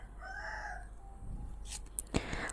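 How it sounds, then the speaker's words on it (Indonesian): Chickens and a rooster outside, heard faintly from indoors: a distant crow early on, then a few sharp clucks and squawks near the end over quiet room noise. "Sorry kalau kamu dengar suara ribut ayam itu di luar ya"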